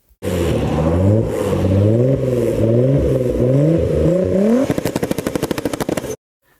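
A 3-litre V6 car engine with 222 horsepower revs loud and close in a rising and falling wail, then breaks into a rapid stuttering burble before cutting off abruptly.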